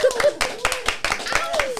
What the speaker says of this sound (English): We're going to clap for that, Staten Island.